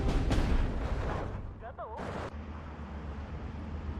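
Artillery shelling on a WW2 battlefield in the real-time strategy game Steel Division 2, heavy booming blasts early on that fade into a rumbling background, with someone talking over it.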